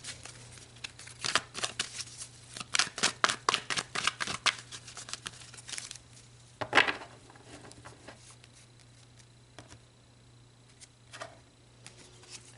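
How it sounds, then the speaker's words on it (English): Tarot cards are shuffled close by in a quiet room, a rapid run of riffling flutters and soft slaps for several seconds, then a single sharp snap and a few faint taps. "let's pull some tarot and go a bit deeper into this message"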